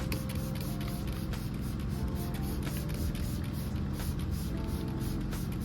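Steady, continuous spraying of Super Clean cleaner diluted 4:1 from a spray bottle onto a car panel, a dense hiss over a low rumbling background, constant and unbroken throughout.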